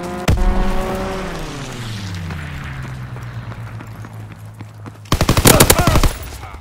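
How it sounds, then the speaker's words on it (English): Enemy aircraft strafing in the Call of Duty: WWII video game, a loud engine drone sweeping down in pitch followed by a sudden close burst of rapid machine-gun fire lasting about a second. "Enemy strafing run, inbound!"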